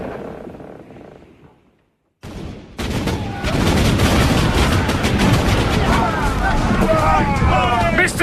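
Naval gunfire from a sailing warship's cannon in a radio drama booms out after a brief silence, then sustained loud firing and battle din fill the scene with dense, continuous blasts.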